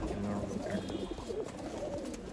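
A male racing pigeon coos softly in a loft in Bangalore, low rolling coos under steady background noise and a faint voice, with other birds murmuring nearby.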